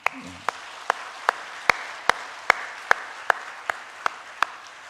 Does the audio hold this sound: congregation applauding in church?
yes